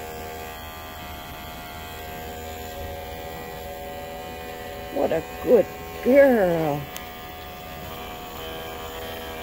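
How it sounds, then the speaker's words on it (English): A steady electric shaver hum runs underneath while a person speaks briefly in a soft, sing-song voice, shaving a sick baby guinea pig with abscesses; the shaver needs charging. "I think we need to charge our shaver."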